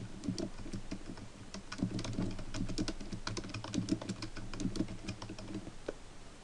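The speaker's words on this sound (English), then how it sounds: "and then you will type your title" Rapid, steady typing on a computer keyboard as a centered title is entered for an MLA-formatted document, with close, crisp key clicks continuing for several seconds and no talk.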